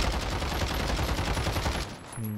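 A gun fires in a first-person video game, a continuous rapid burst of automatic shots ringing out loudly for about two seconds before stopping abruptly.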